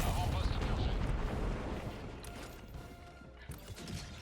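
A C4 explosion in the video game Helldivers 2 gives a loud, dense blast with a rumbling, crashing tail that fades over a few seconds. Players talk underneath.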